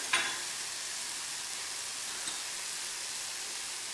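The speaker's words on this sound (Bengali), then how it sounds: "ইলিশের তেলের সঙ্গে টমেটো গুলো একদম ইলিশের মতনই তেল দিচ্ছে" Tomatoes fry in hilsa fish oil for a Bengali shorshe ilish dish, giving a steady, moderate sizzle with soft crackles and a brief clatter at the start.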